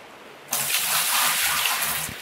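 Water gushes steadily to wash gold pay dirt in the Gold Rush mining game. The pour starts abruptly, runs as a loud, continuous rush for under two seconds, then tapers off.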